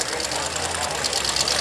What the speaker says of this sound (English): It's a 1923 T-Bucket with a 360 Dodge with a 471 blower and a good old Predator carburetor up on the top there.